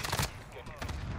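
Rapid bursts of gunfire from a flaming weapon in a video game rattle loudly in two close clusters, with a player's voice speaking over them.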